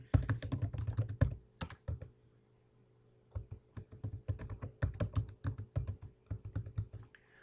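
Typing a sentence on a computer keyboard, rapid close key clicks in two bursts separated by a brief pause, with no talking.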